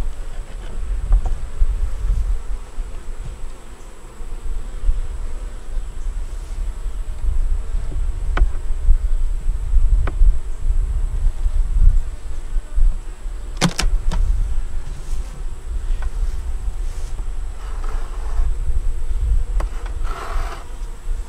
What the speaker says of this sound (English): Okay, down here we got a lot of bees.